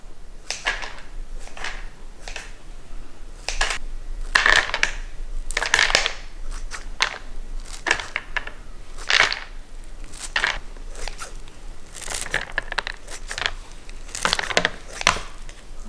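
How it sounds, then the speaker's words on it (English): Dry vermicelli strands are snipped into one-inch pieces for egg rolls, giving a long run of crisp, brittle crunching cuts that come in quick repeated bursts, close and clear, with no talking. "I usually cut the vermicelli into 1-inch pieces, like so."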